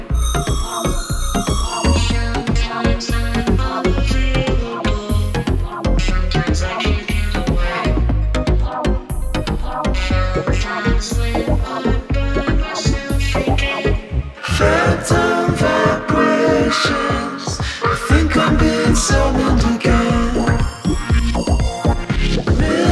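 An electronic song plays back loud and dense, with a pulsing low bass, layered synths and punchy beats, then a fuller section after the midpoint.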